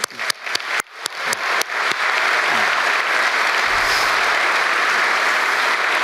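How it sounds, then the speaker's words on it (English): An audience at a tech keynote event in Louisville breaks into applause, starting as scattered sharp claps and swelling within two seconds into loud, dense, sustained clapping from a large crowd. "Let's give our ASIC community in Louisville a round of applause."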